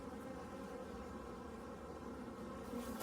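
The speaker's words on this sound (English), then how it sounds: "we've got a bunch of bees down in here, along with some burr comb over to the side" Honeybees drone steadily around an open hive with burr comb during a hive split, a dense, continuous buzz heard close up with no voices.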